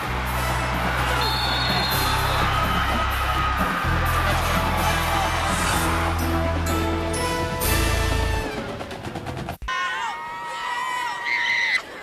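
A massive crowd roars and cheers at a high school football game in Hoover, Alabama, with dense shouting, whooping and band noise filling the stands, then a brief dip before the crowd noise rises again.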